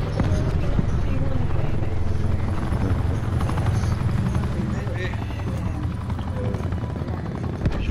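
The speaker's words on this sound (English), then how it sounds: "Oh, an attack chopper." Attack helicopter in Call of Duty: Black Ops 4 roars steadily with a dense, continuous rotor drone throughout, blended with gunfire and game effects while players talk over it.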